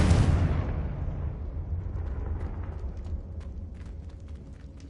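The Confringo spell in Hogwarts Legacy lets off a loud explosive burst that rolls into a long, low rumbling decay, fading gradually with faint crackles.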